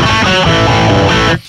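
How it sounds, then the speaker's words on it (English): An electric guitar played through an Azor distortion pedal gives a brief, loud, thick buzzing chord that rings for over a second before cutting off abruptly. "I do like this distortion"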